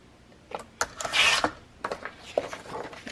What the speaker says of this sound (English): So I'm going to trim these two out.